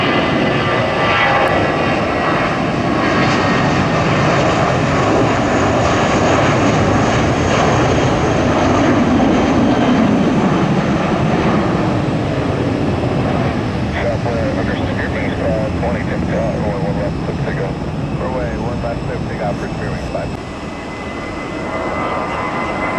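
JetBlue jet airliner departing Tampa International Airport, a loud, sustained engine roar that holds steady for a long stretch and eases slightly near the end.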